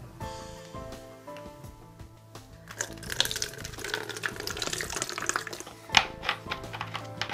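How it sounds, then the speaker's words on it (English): Room-temperature water is poured into a plastic bottle, a splashing, trickling stream that builds in the middle and ends with a sharp knock, with no talking. "First things first, we're going to put regular room temperature water in this."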